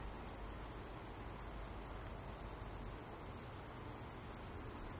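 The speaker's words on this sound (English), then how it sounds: "And you hear the grasshoppers" Steady, dense chirping of grasshoppers fills a quiet night, a continuous high-pitched trill with no voices.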